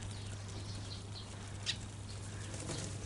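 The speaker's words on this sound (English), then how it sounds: "See how they come? So sweet, little sparrows." Small sparrows flutter in to feed, their soft wingbeats a faint brief patter over quiet background hum, with one sharper flap midway.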